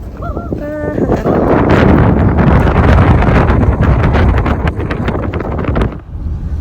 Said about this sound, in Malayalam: കാറ്റ് നല്ല തണുത്ത കാറ്റ്